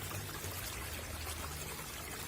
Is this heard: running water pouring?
yes